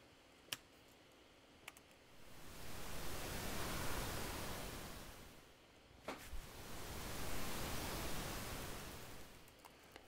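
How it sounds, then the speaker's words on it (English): Synthesized ocean surf built in SuperCollider: two broad swelling washes of hiss rise and fall slowly, each a few seconds long, with a few sharp clicks between them, moderately loud and alone. "And then we slowly drive away from the beach, leaving the ocean waves behind us."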